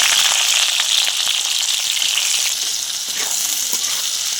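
Chopped onion drops into hot oil with whole spices in a pan, giving a loud, bright, continuous sizzle with crackling pops, close and steady throughout without speech.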